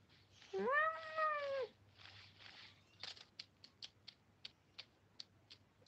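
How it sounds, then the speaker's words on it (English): A cat lets out a drawn-out meow followed by softer ones, then a rapid series of sharp creaking, ticking clicks; quiet indoor setting. "I don't know if you heard his meow"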